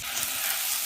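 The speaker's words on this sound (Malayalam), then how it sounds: "ഇതിലേക്ക് അരിഞ്ഞു വെച്ചിരിക്കുന്ന ടൊമാറ്റോയും കൂടെ ചേർത്തൊന്ന് വഴറ്റിയെടുക്കാം" Chopped tomato, onion and green chilies sautéing in a pan for a potato mushroom masala give a brief, steady close-up sizzle with no talking.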